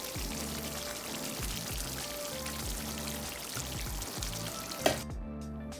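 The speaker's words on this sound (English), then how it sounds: "Submerge all your chicken and add some water." Water pours steadily into a pot of chicken for a Thai massaman curry, a continuous close splashing stream with a faint sizzle underneath, ending in a sharp clink as the pour stops and the sound drops away.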